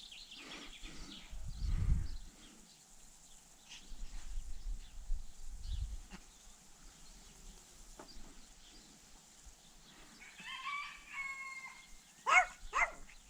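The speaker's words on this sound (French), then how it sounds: "C'est le coq." A rooster crows in the distance, faint and drawn out, with quiet rustling and a few sharp noises near the end.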